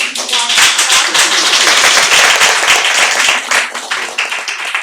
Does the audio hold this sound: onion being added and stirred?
no